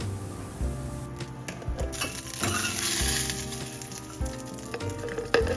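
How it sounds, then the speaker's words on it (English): Coriander seeds and red chilies fry in hot coconut oil, giving a steady close sizzle with crackles and small stirring knocks throughout. "Heat a little bit oil. I normally use coconut oil, and fry some coriander seeds and red chilies."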